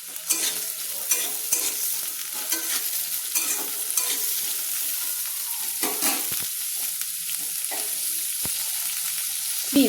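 Diced carrots and beans fry over a medium flame in a pan, a steady hiss of sizzling oil broken by repeated scraping stirs of a spatula, close and continuous with no voices.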